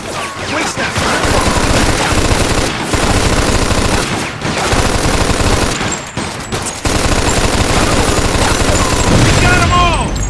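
Machine gun fire in Mafia II, loud, sustained automatic bursts with brief pauses, near and dominant, with voices shouting over it.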